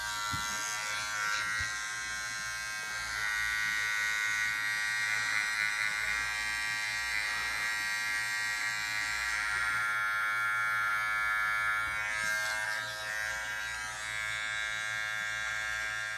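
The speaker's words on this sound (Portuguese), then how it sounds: "Então eu vou fazer toda essa marcação aqui, ó, o desenho do perfil, com a maquininha de acabamento" An electric hair trimmer buzzes steadily and close up while outlining a client's hairline during a barbering profile design, its high motor whine shifting slightly in pitch as it moves.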